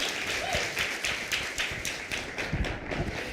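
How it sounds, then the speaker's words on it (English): Audience applause greeting a guest, animator Elizabeth Ito, on a live show in Oxford: steady dense clapping with irregular louder taps and thumps, close and continuous. "let's give a warm round of applause and get her out here"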